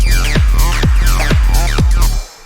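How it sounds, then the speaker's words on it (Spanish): String synth patch programmed in FL Studio for a techno track, sustained bright chords with repeated sweeping pitch drops about every half second, loud and alone before a sudden fade at the end. "este es un sonido de cuerda"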